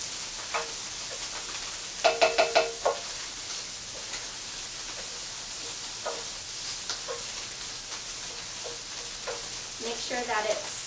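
Lo mein noodles sizzle and fry in a pan under a steady hiss, with a short cluster of scraping stirring strokes and scattered clinks as they are spread around, close by with no talking.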